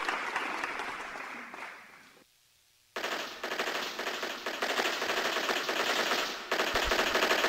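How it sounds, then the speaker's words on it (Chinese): Firecrackers for a wedding rattle off in long, loud, dense crackling bursts, with a short pause before a second sustained volley, no talk over them. "要来娶新娘了，放炮声哦！"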